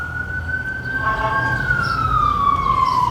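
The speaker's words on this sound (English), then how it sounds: "I'm kind of waiting for this siren to like dwindle down" A wailing emergency siren sweeps slowly downward in pitch, moderately distant over a low rumble of traffic.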